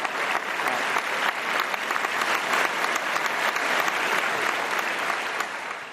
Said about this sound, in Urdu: ہماری ٹیم کے لیے بہت صحیح تالیاں